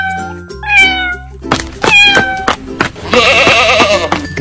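A cat's meow, drawn-out and rising then falling, sounds up close and loud, followed by other animal calls in quick succession.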